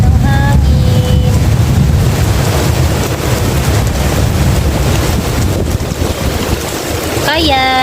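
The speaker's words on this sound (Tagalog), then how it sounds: "Lakas ng ulan. Lakas din ng hangin." Loud, steady roar of heavy rain and gusting wind battering a campsite in Palauig, Zambales, with brief faint tones and a voice near the end.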